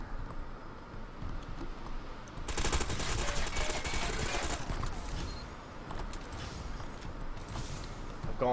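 Automatic gunfire from the online shooter Ghost Recon Phantoms erupts in a sustained, fairly close burst of about two seconds, with softer scattered shots before and after over the game's ambient noise.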